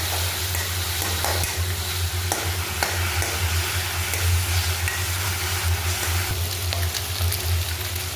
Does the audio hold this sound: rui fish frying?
yes